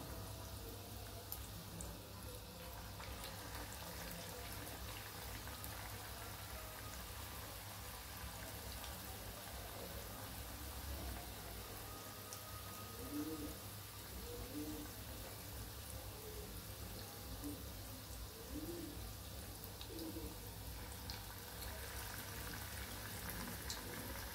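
Homemade snacks drop into hot cooking oil and fry with a soft, continuous sizzle and bubbling. The sound stays faint and steady throughout.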